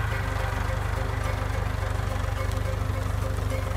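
Tractor engine running steadily while clearing scrub, a loud continuous low chugging throb with a fast even pulse, close by and unbroken throughout.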